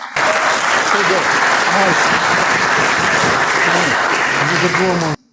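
A crowd at a fundraiser for Albanian communities claps in a loud, dense round of applause that runs evenly for about five seconds, with voices calling out and cheering over the clapping before it cuts off abruptly.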